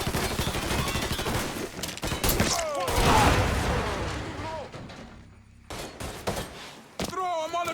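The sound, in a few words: gunfire in the video game Mafia 3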